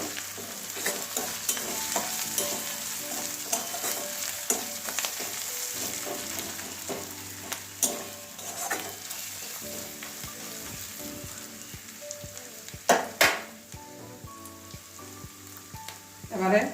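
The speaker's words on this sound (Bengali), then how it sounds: "আদা রসুনের কাঁচা গন্ধটা চলে গেছে ওই একই চামচে ধনে গুঁড়ো দিয়ে দিচ্ছি" Ginger-garlic paste and coriander powder crackle in a pan of hot oil for a Bengali katla fish kalia with yogurt. The sizzle is loud and continuous, with occasional spoon clinks and one sharp tap partway through.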